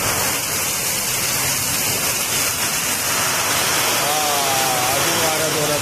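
Heavy unseasonal rain driven by stormy wind in Sudhagad, Raigad, a dense, loud, unbroken hiss of downpour with a whooshing roar, close and constant.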